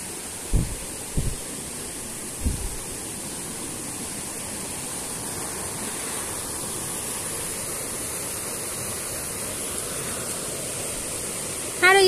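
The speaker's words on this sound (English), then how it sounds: "I can see the waterfall from there." Steady broadband rush of the Wangsai waterfall on Koh Phangan, a constant even roar throughout, with a few brief low thumps near the start and a short sharp sound at the very end.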